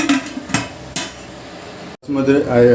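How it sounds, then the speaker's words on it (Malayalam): A metal lid clanks onto a pot of basmati rice near the boil for biryani, with a couple of sharp clatters and scrapes in the first second, then a brief gap before renewed kitchen bustle. "നമുക്കിത് മൂടി വയ്ക്കാം കേട്ടോ"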